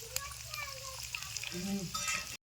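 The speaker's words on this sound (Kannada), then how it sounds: "ಶೇಂಗಾ ಉಳ್ಳಾಗಡ್ಡಿ ಎಲ್ಲ ಫ್ರೈ ಅಲ್ರಿ" Peanuts and onions frying in oil for a Diwali festival dish, a close, steady sizzle and crackle that lasts the whole short moment, with faint voices mixed in.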